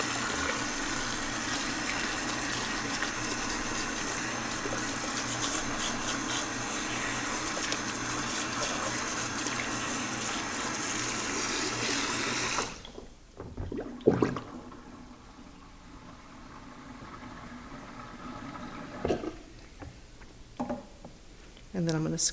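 Cool tap water runs steadily over a shampooed wig being rinsed, a loud continuous gush that suddenly cuts off partway, leaving quiet handling sounds and drips.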